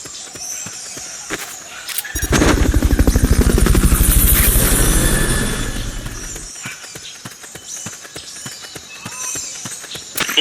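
Helicopter from the Metal Gear Solid Peace Walker video game roars in suddenly and loud, a dense rotor thrum that swells, peaks and fades over a few seconds, framed by lighter rhythmic game sounds like footsteps before and after.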